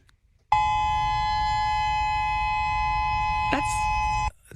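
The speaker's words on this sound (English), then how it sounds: "this is the tsunami warning that you hear" A tsunami warning siren sounds loud and continuous at a high pitch, holding a steady tone for several seconds, then cuts off abruptly.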